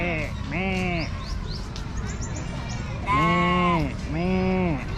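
Sheep at a farm in Pattaya bleat loudly and close by, with several long wavering calls in a row, while people talk in the background.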